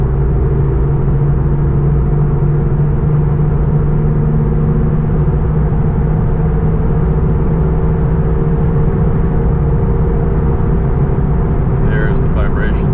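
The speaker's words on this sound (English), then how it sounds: "There's the vibration, 90 miles an hour." A car cruises at 90 mph with a wheel vibration, giving a loud, constant droning road and engine rumble with no break.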